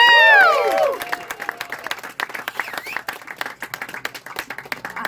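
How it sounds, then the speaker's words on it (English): Audience applause and cheering for a woman who just sang on stage at a small live follies show, opening with a loud whoop over clapping, then steady, moderately loud applause from a modest crowd. "Can you make some noise for her again?"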